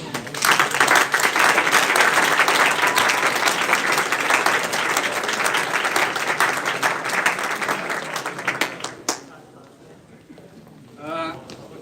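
Audience applause for a university team after a moot court round, loud sustained clapping from a room of people lasting about nine seconds before cutting off, then brief talk.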